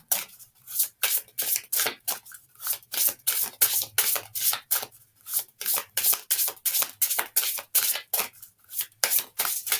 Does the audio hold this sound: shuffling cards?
yes